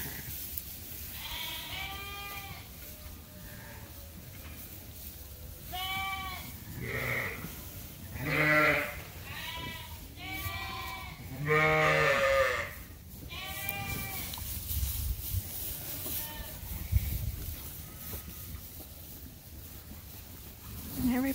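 Lambs and ewes on a sheep farm bleat repeatedly, some calls near and loud, others fainter, scattered across the scene while a person talks quietly in between.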